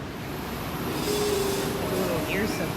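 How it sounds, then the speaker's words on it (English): The Skylink airport people-mover, a small train at a Texas airport, rumbles steadily with occasional wheel squeals and a faint tone, while people talk in the background. "This is Skylink. Looks like a little train."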